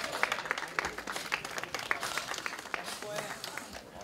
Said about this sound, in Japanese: それではどうぞ皆さん大きな拍手でお迎えください